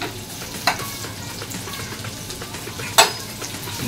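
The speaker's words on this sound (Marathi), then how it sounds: "तांबूस होईपर्यंत परतूया, म्हणजे आपला कांदा ब्राऊन होईपर्यंत परतायचा आहे।" Chopped onions, two of them, fry in oil, browning for a chicken baida roti: a steady broadband sizzle with two sharp clinks of a stirring spoon against the pan, no talking.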